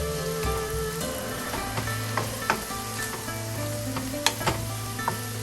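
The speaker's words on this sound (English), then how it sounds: "let's give it a mix. We're still maintaining a high heat here." Pork rice stirred in a wok over high heat, a loud continuous sizzle and crackle with repeated sharp clinks and scrapes of the spatula against the wok, close and without speech.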